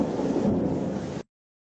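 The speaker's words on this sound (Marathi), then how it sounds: "आकाशामध्ये वीज कशी छान कडकडते." Thunder rolls in a steady, full-bodied rumble for about a second before cutting off abruptly, with no voices heard.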